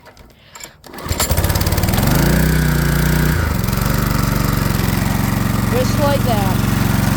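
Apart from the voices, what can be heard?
flathead Briggs & Stratton small engine starting and running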